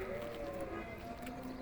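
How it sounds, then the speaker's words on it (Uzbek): Sheep bleat in a continuous, wavering chorus among livestock offered for sale. The bleating is close, steady and fairly loud, with no talk over it. "Mana qo'ylar ekan."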